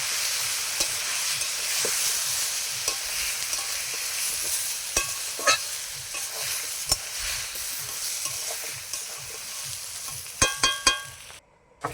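A spice paste of ground chili, ginger, garlic and turmeric fries in a pan, a steady close sizzle broken by occasional spoon scrapes and stirring clatters, louder knocks near the end.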